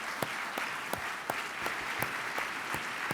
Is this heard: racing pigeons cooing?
no